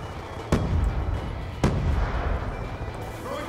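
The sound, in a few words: grenade explosion in video game Black Ops 2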